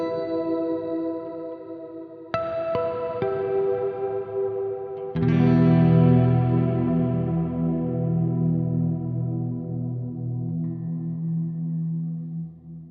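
A Chase Bliss Meris CXM 1978 reverb pedal in standard mode with the blue setting, washing sustained chords in lush reverb; new chords strike at intervals and bloom into long, dense decaying tails, with no talking.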